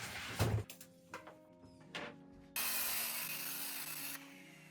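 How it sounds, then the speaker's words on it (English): A power saw rips plywood into smaller pieces, its steady loud whine running for about two seconds after a few short knocks and handling noises. "the first thing I did was rip down my plywood into more manageable pieces before I do my miters"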